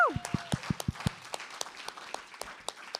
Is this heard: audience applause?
yes